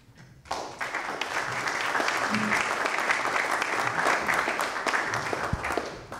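An audience at a Buildyourcentre.ca community event claps after a speaker, a steady moderately loud burst of applause starting abruptly and holding for several seconds.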